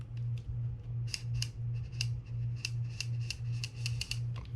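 A Penn International II 16S fishing reel has its drag tested, giving a steady rapid ratcheting click in quick repeated bursts, close and alone with no talk.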